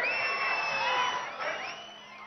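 A large crowd cheers, whoops and whistles loudly at a Telangana political rally, a steady roar that fades slightly toward the end.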